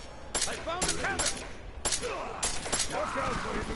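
Machine pistol gunfire in the game Deus Ex: Mankind Divided, several sharp bursts of rapid shots spread across the moment, loud and close, with a voice talking between them.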